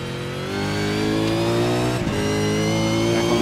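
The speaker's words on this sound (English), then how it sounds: "Bit of an early downshift there by the sound of it." Race car engine at Bathurst in a Venom Series shootout, a loud steady high-revving drone with strong harmonic whine, dipping briefly in a quick downshift blip before climbing again, close and continuous without talk.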